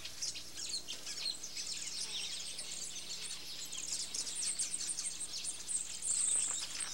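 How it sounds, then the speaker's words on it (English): A weaver bird colony in a tree beside a chief's hut in Madagascar gives off dense, continuous high chirping and twittering, a busy chorus of many small calls at moderate distance, with no talk. "There is a weaver bird colony in a tree close to the chief's hut, a sign of good fortune."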